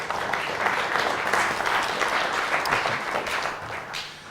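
An audience at a Lisp programming symposium applauds, a dense, even wash of many hands clapping that holds steady and then fades slightly at the end, with no talk over it.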